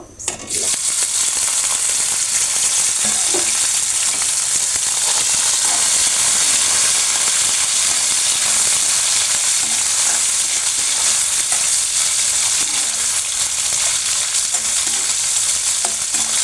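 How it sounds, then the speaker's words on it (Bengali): Beef pieces frying in hot mustard oil for a beef bhorta, a steady, loud, continuous sizzle and hiss that carries on evenly throughout with no talking. "তেলটা গরম হয়ে আসছে, আমি এখন মাংসগুলো একটু ভেজে নেব।"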